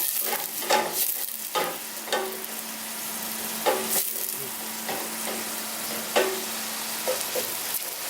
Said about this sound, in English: Fry it slowly, yes.